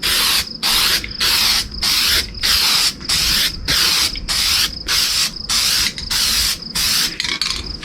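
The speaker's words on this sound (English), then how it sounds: "that I spray my exhaust pipes with" Aerosol spray can coating a truck air tank with protective paint: a series of about a dozen short, sharp hissing bursts in a steady rhythm, close and loud, with brief pauses between them.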